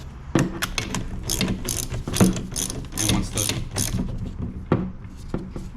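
A spring compressor is cranked tight on a Daihatsu Hijet kei truck's front strut, giving rapid bursts of loud, close ratcheting clicks with brief pauses between strokes.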